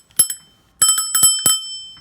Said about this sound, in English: So here first you have a bell.